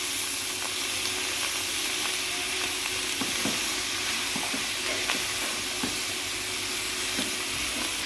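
Chicken pieces for a Chinese-style chicken vegetable gravy sizzle and fry steadily in a hot pan, with a constant hiss and scattered crackling pops, close and fairly loud throughout.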